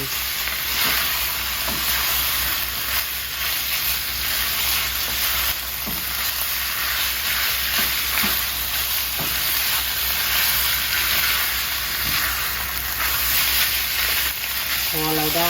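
Pork sizzles and fries steadily in a hot pan for a Thai spicy stir-fry, with a dense continuous hiss and occasional stirring scrapes, loud and close throughout, with no talk.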